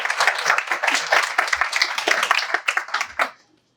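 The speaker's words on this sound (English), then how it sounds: "Can we get one more round of applause for our audience?" A small audience claps for a few seconds, a patter of close individual hand claps that thins out and stops abruptly, followed by silence.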